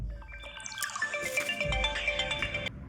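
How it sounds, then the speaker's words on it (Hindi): A mobile phone rings with a bright electronic tone of stacked tones lasting a few seconds, fairly clear and close with no talking over it. "और फिर बीच में मेरे फ़ोन की बेल आप सभी ने सुन ली है।"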